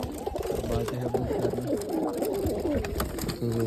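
Pigeons in a home coop setup coo in repeated throaty, rolling calls, several birds overlapping at close range, with faint background voices now and then.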